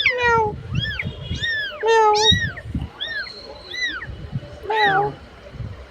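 A cat and her kittens mew repeatedly in short, high, rising and falling calls, several overlapping at close range, while people talk nearby.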